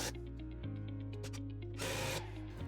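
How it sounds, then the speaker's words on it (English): Power driver sinking a couple of screws into a wood offcut inside an old stone barn, a short whirring drive that rises in pitch, then a brief louder burst as a screw bites and seats. "all I'm going to do is put a couple of screws in."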